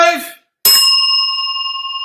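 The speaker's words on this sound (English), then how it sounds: "that's a good bell ring." A bell is struck at the start of a live podcast, one sharp, loud strike after a brief spoken bit, then a long, clear ringing tone that slowly fades.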